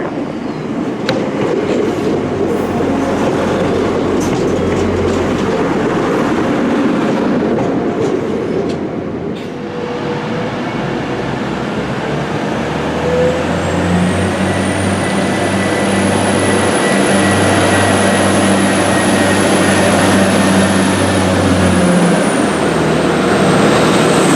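Transport for Wales unit 175001 train service rumbles steadily and loudly throughout, with rolling wheel noise and a rising high whine as it picks up speed, no talk.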